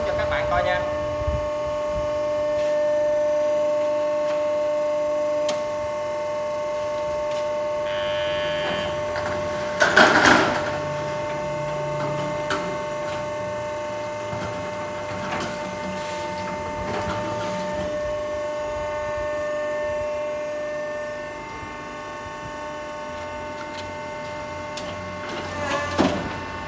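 A machine curving a metal roofing sheet into an arch gives a steady tonal electric hum, broken by a few sharp metallic clanks and rattles as the sheet moves through.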